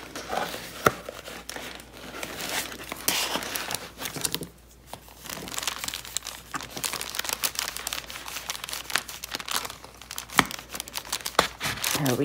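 Paper crinkles and rustles close up with irregular crisp crackles and taps while a journal is hand-stitched, steady throughout with a brief quieter pause midway.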